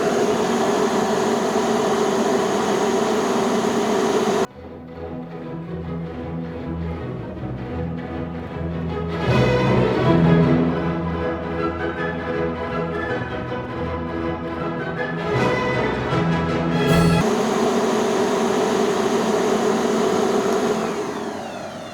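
Dirt Devil Featherlite bagless vacuum running steadily during a brushroll test, a loud continuous motor whine whose pitch and texture shift midway, then return to the original drone.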